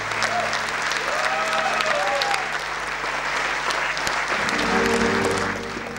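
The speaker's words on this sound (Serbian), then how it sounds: "Ovacije za Hasanaginicu u izvođenju ansambla Pirotskog pozorišta" A theatre audience gives a sustained ovation after the Pirot Theatre ensemble's performance of the play Hasanaginica, with dense, steady applause filling the hall and a few faint voices underneath.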